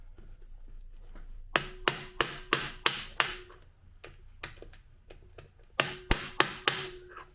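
A hammer taps a plate off a Kawasaki Bayou ATV engine during a bottom-end teardown, giving sharp metallic strikes in a quick series of about six, then scattered lighter taps and another cluster of hits, close and ringing.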